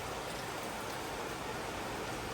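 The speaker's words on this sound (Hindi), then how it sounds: "वही बारिश अभी भी हो रही है।" Steady rain falling outdoors during a rainy spell, a faint even hiss of broadband noise without pauses or voices.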